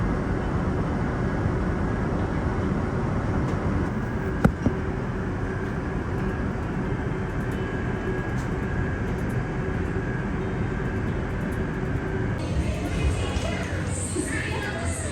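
Steady, loud airplane cabin roar in flight over the Swiss Alps, a continuous broadband engine and air rush with no pauses, only a brief click partway through.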